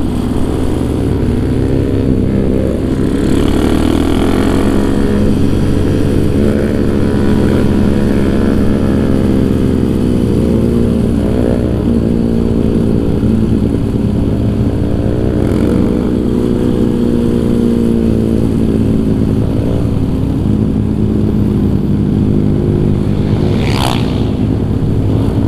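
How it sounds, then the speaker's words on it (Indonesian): Two-stroke Scorpio supermoto motorcycle on a group Sunday ride, its engine buzzing loud and continuous with rising and falling revs, other bikes audible around it, no talk. "Gila kalau denger motor dua tak gitu ya, suaranya tuh bacot parah."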